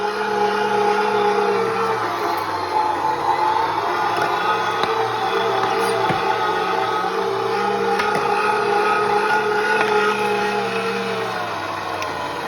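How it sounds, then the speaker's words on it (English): A meat grinder steadily grinding chunks of pork fat for rendering lard, a constant motor drone with a whirring mechanical hum that holds at one level throughout, with no talking. "We're gonna run it through the grinder, and then we'll put it in our roasting pan"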